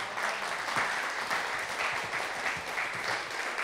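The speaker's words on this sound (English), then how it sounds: "Give her another clap." A live audience applauds a guest being welcomed onstage, an even wash of many hands clapping held at moderate distance for several seconds.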